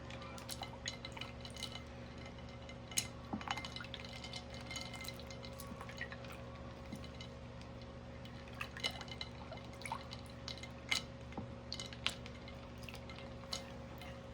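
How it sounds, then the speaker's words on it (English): Cultured butter being rinsed and pressed in cold water, giving soft wet squishes and scattered drips and small splashes, fairly quiet against a steady low hum. "We want to press down and push any liquid that is still inside our butter"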